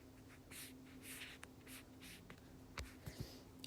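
A marker squeaks and scratches across paper in short strokes, drawing a car, close and quiet, with a few soft taps and a faint steady hum underneath.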